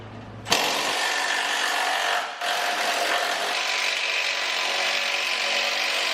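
A power ratchet or impact tool works a 13 mm oil drain plug on a Dodge Ram 1500 truck, a loud close buzzing whir that starts abruptly, dips briefly, then runs steadily.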